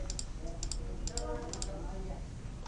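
A handful of sharp, crisp clicks in small clusters, with quiet murmuring and faint background hum underneath.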